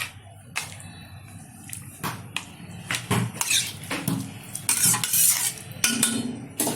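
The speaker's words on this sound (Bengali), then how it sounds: "দিয়ে দিচ্ছি ভেজে রাখা শালপিয়া মাছ। একটু নাড়িয়ে দিচ্ছি" Stirring fried shalpia fish in a pan of jackfruit curry, with a series of close scraping and clinking utensil strokes that grow busier and louder, over a light sizzle.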